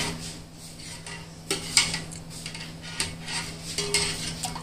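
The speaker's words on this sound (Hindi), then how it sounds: "इसको धीरे धीरे मिक्स करता रहता हूँ" A ginger, lemon, garlic and vinegar mixture is slowly stirred in a pot over a flame, giving soft scraping and intermittent clinks of a utensil against metal over a low, steady background hum.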